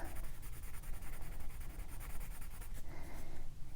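Continuous scratchy strokes of a watercolor pencil rubbing across paper, close and soft, with a steady back-and-forth rhythm.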